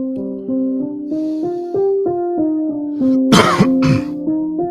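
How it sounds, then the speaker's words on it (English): A man clears his throat twice in quick, harsh bursts close to the microphone, over soft, steady background music. "Trying to clear my throat."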